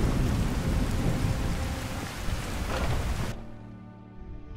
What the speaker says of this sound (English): Oh, it got thunder.